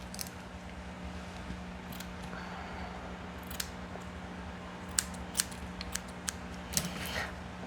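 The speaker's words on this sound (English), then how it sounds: "use my little scissors like that" Small grooming scissors snip at a Shih Tzu's fur in a quiet room, with sparse, crisp clicks that come in a short cluster toward the end over a steady low hum.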